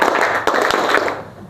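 Students clap in unison on command, a quick series of sharp, loud claps, slightly ragged, with about four main hits before the sound fades out.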